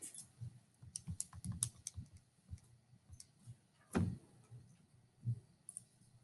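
Keys on a handheld calculator being pressed, a quick run of light plastic clicks near the start followed by a few scattered taps, faint and close in a quiet room.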